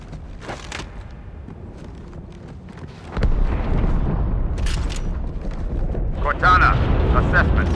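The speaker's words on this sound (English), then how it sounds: "That explosion came from inside the Athens." A deep explosion from the Halo 2 Anniversary video game erupts a few seconds in after a quieter stretch, its roar sustaining with rumbling debris, and a second burst follows near the end, while game voices and sound effects continue around it.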